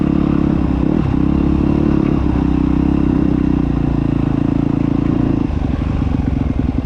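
A KTM 250SXF four-stroke dirt bike engine runs loud and close, holding a steady drone before shifting to a choppier, pulsing note near the end, with faint clatter underneath.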